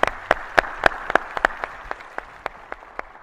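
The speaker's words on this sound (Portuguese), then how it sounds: "ele merece uma salva de palmas" Applause at an inauguration ceremony, heard as sparse, distinct claps spaced about a quarter second apart, strong at first and then softening into lighter, scattered hand claps.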